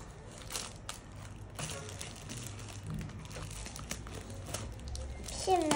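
Play dough packaging is torn open and crinkled by hand close by, giving steady crackling and rustling throughout, with a louder crinkle burst near the end.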